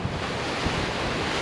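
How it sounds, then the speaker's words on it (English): Strong wind buffets the microphone on the Maui coast along the Kahekili Highway, a loud continuous roar with surf-like rushing and brief gusts, no voices. "But it's been really windy today"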